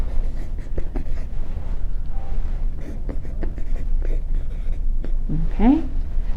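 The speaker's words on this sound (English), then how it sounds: "Let me write this out for you." Marker or chalk writing on a board: short scratchy strokes and taps in irregular bursts, fairly close, with a brief voice near the end.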